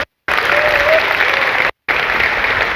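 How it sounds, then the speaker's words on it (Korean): Seminar audience applause in a large hall, a dense, even wash of clapping broken by two brief gaps of silence, with no talking. "박수 한번 주시면 감사드리겠습니다."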